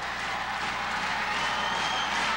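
A packed gym crowd at a 1993 boys' high school basketball state championship applauds and cheers after the Rams' title win, a steady, even roar of clapping and voices with no break.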